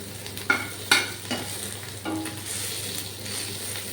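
Fish and onion frying with spices in a pan are stirred, a few sharp scraping strokes and clinks over a continuous low sizzle, close and moderately quiet.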